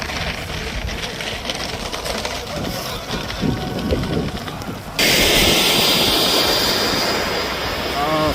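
A Freewing MiG-29 RC jet with twin 80mm electric ducted fans flies in strong wind. A distant whooshing roar swells into a louder, sharper close pass over gusty wind noise, with people talking.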